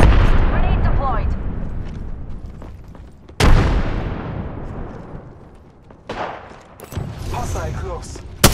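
Apex Legends firefight, with gunfire and a grenade blast booming loud and close, repeated heavy bursts decaying into rumbling tails, and sharp new impacts near the middle and end; game voice lines sound over parts of the action.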